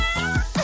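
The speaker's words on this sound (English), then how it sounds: "A kitty." A cat gives a single short, clear meow, close and alone with no voices around it.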